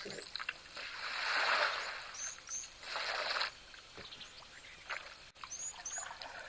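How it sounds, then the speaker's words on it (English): Leftover water splashes and pours from elephants' mouths and trunk tips at an African waterhole, a close, broad, gushing spatter in several bursts, with small birds chirping in the background. "The leftover water falling out of their mouths and the end of their trunks."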